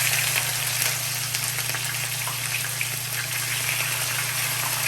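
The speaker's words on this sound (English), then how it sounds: "now that the oil is hot, I'm just gonna go ahead and start to fry my fish" Steady, dense sizzling of fish frying in hot oil for Jamaican escovitch fish, a continuous crackling hiss with no talking.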